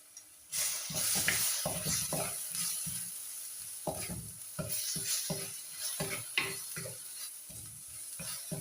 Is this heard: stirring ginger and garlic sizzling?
yes